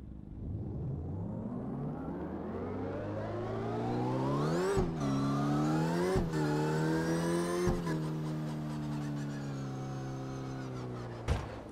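Car engine in CarX Drift Racing Online, a modified Mazda MX-5, revving steadily upward in pitch for several seconds, then holding a high whining drone broken by a few sharp gear-shift clicks.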